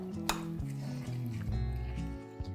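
Flour being stirred into a batter for onion fritters, a family recipe: a spoon clinks and scrapes against the bowl with soft wet squishes, quiet and close, with one sharper knock near the start.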